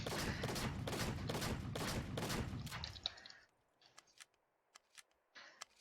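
An automatic shotgun fires in the video game Arma 3, a rapid string of loud blasts for about three seconds, then scattered lighter clicks and shots in a quieter stretch.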